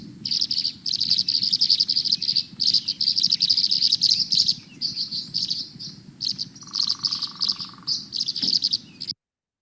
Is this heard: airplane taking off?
no